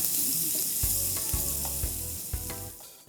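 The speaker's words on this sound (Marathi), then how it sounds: "कांदा गुलाबी होईपर्यंत परतून घेऊया." Chopped onion being sautéed in a pan until pink for Mumbai-style veg keema: a continuous bright sizzle with several low knocks of a spoon stirring against the pan, close by, with no voices.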